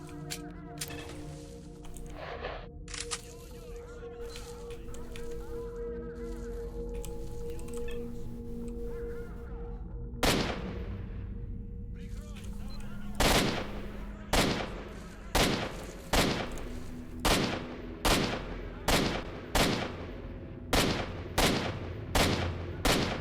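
Gunfire in the video game STALKER: Shadow of Chernobyl. A murky, rumbling game backdrop gives way to a long run of sharp, evenly spaced shots that ring out loudly and keep coming through the second half.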